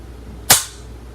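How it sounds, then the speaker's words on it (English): A spring-powered Hy-Score air pistol is dry fired, its mechanism releasing in one sharp, close snap that decays quickly into quiet. "it gave the ability to dry fire this"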